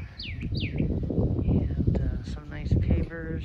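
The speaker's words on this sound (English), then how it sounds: "I'm hearing the birds singing this afternoon." Small birds chirp and tweet outdoors against breezy background noise while a person speaks nearby.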